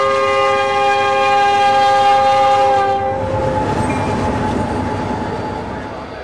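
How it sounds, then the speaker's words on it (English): A train horn blares loudly for a few seconds, then gives way to the rumble and clatter of a northbound CN freight train rolling past close by on the main line. "a northbound CN freight heads up the main line toward the yard at Champaign"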